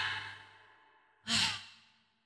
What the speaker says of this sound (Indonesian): tarik napas yuk.